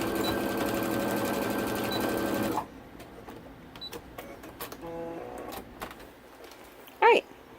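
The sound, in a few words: sewing machine stitching a waistband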